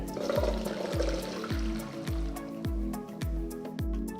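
Water from boiled chickpeas being strained off, a steady pour and splash running through the whole stretch with regular gurgling surges, fairly quiet and close with no talk.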